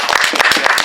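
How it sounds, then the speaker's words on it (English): Audience applause for performer Edwin Salgado before a freestyle piece, heard as a brief burst of close, distinct hand claps in quick succession. "Everyone give a big round of applause to one of my friends"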